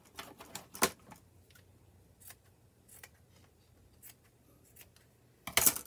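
Scissors cutting woven pockets off a weaving loom: a few faint, sharp snips and clicks scattered in quiet, with a louder cluster at the end.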